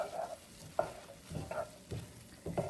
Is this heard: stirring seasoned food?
yes